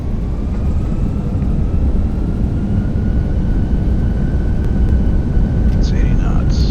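An Airbus A320 in a flight simulator game roars steadily and loudly with reverse thrust during landing rollout, a dense continuous engine rush that holds its level throughout.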